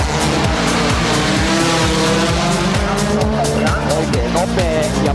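Rally cars from the 2007 WRC Rally Germany race through picturesque town streets, engines revving and shifting loudly up and down close by, with tyre squeal and a commentator talking over the racket.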